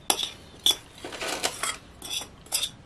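A utensil stirs a butter mixture in a bowl, giving several separate scraping, clinking strokes against the sides at an uneven pace, close and fairly quiet, with no voices.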